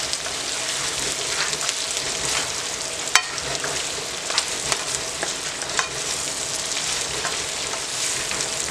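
Wieners sizzle and fry in a pot for frijoles charros while being stirred, a steady broad crackle with scattered sharp pops and scraping clicks throughout, no voices.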